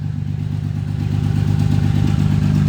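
A 2001 Ford Mustang engine idling through a loud straight-pipe exhaust, a steady close rumble with a rhythmic low throb and no talking.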